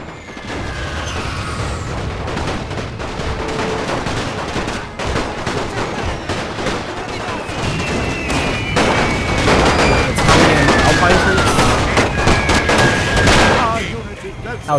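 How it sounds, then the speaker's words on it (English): Artillery booms and crackling small arms volleys in a Great War mod battle of Napoleon: Total War, loud and continuous, a dense clamor of overlapping shots and blasts with whistling shells running throughout. "I knew that artillery would break up the assault plus the small arms fire."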